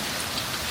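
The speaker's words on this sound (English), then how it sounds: "It's hail." Hail falling hard in Switzerland, a dense continuous hiss and patter of stones striking surfaces, loud and close with no talking.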